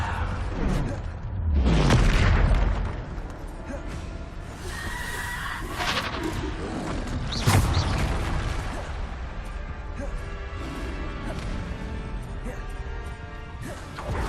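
Bombarda spells explode in the video game Hogwarts Legacy: loud crashing blasts, one heavy boom near the start and another sharp burst midway, over a dense layer of in-game combat sound.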